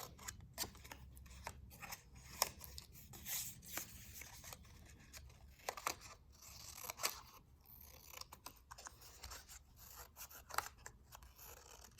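Scissors snip through painted paper to cut tall grass shapes, a quiet run of short, crisp cuts and rustles with no talking.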